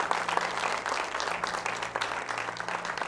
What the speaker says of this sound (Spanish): Den un fuerte aplauso al Rey de Reyes.